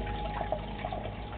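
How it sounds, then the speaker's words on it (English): Water circulating in an aquaponic fish tank, driven by an air pump and bubbler, makes a steady, soft, continuous wash of gurgling and trickling with faint bubbling, heard alone at close range. "So we got water circulating. With the air bubbles and pump."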